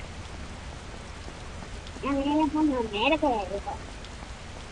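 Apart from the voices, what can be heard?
rain in an Indian GTA-style video game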